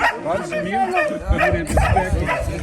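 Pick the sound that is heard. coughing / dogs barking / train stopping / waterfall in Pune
dogs barking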